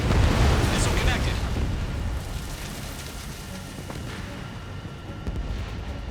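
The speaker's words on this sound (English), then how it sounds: "Missile connected." A missile strikes its target in Ace Combat 7 with a heavy, loud explosion that booms at once and then slowly fades into a rushing, rumbling wash of noise.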